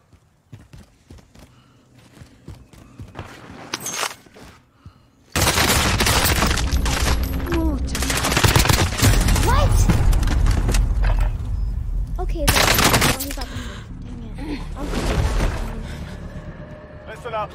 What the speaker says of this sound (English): I heard shooting over here,